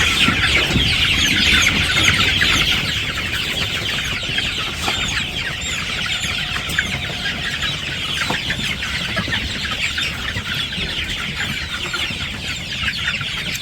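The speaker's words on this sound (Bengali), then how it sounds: "মুরগির ঘরে আসলে ভালোই লাগে, মুরগিগুলা উড়াউড়ি পাড়াপাড়ি করে" Inside a village chicken coop, a flock of hens keeps up a dense, continuous clucking chatter for a long stretch, with occasional sharper clicks and rustles mixed in and no voices.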